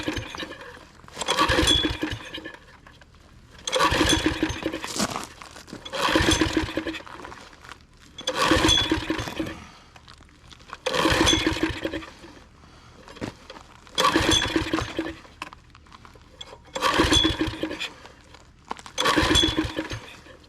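A go-kart engine being pull-started with the choke on: eight repeated bursts of sputtering cranking, each about a second long with short pauses between, loud and close, no speech.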